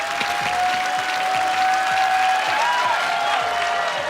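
A crowd applauds steadily with dense, close clapping throughout, while faint background music plays underneath.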